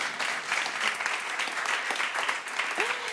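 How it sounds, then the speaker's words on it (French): A comedy show audience breaks into dense, sustained applause, a thick rapid patter of many hands filling the room, with a voice briefly audible over it. "Oh oui, ça s'applaudit"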